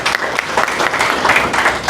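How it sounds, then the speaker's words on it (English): A room of members at a meeting applauds Jonathan with steady, dense clapping that holds evenly for the whole stretch. "Round of applause"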